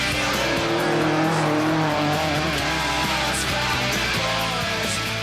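A 1972 Ford Escort rally car, the RAC Rally winner, sliding sideways: a loud, close, steady engine drone with shifting pitch and tyre scrub running throughout, without speech.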